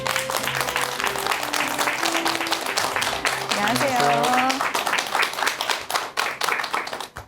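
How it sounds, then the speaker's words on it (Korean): Studio audience applauds as a family medicine professor is welcomed on stage, crisp steady clapping with a bright musical tone sliding through the middle, and a voice offering a brief greeting near the end. "큰 박수 부탁드립니다"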